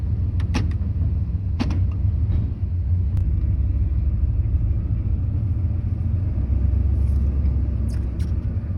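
Old truck engine idling smoothly, a low steady rumble up close with a few faint clicks and taps over it.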